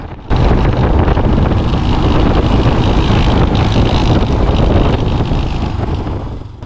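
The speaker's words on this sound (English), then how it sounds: "I don't know if you can hear this weird noise in engine." Motorcycle on a cold ride in Uttarakhand with an odd engine noise, heard as a loud, constant roar dominated by wind buffeting the microphone, steady throughout with no talk.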